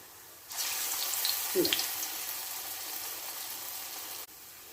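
Medu vada, urad dal fritters, fry in hot oil with a steady, close hiss of sizzling that starts abruptly, runs for about four seconds with a brief clink partway through, then cuts off.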